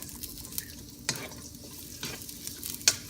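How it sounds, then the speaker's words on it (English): Onion rings fry in hot oil in a wok, with a low sizzle underneath and several sharp scraping and clinking strokes of a utensil against the pan, the last one loudest. "we put oil already, and we're gonna fry our onion rings."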